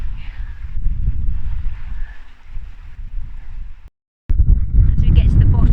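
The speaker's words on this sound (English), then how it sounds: "it's getting really windy" Strong wind roars against the microphone in steady gusts, cutting out briefly before rushing back louder.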